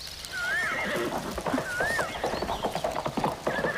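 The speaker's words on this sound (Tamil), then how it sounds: "குதிரை சத்தம் கேக்குது இல்ல?" Several loud horse whinnies ring out close by, over clattering hoofbeats.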